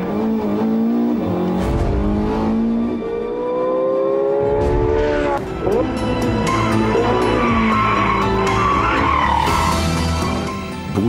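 A Porsche 918 Spyder sports car is driven hard, its engine revving through rising and falling harmonic sweeps with tire squeal and skidding. The sound stays loud and close and continuous for the whole stretch, with no talk.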